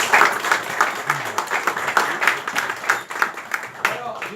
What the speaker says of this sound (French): Tiens à vous faire applaudir